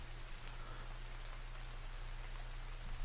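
Steady rain falls as a soft, continuous hiss like white noise, faint and even throughout, with no voices.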